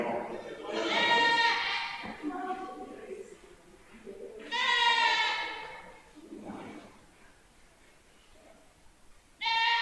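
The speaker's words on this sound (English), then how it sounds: "And Willow's goat is a beautiful goat" A goat bleats in clear harmonic bursts at a county fair dairy goat show, three separate calls with a loud one near the start, another midway and a short one at the end, set against the indoor murmur of the show.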